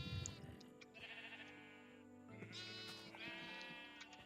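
Sheep in the Minecraft video game bleat close by, with several nasal, wavering calls following one another over a short stretch and no voices.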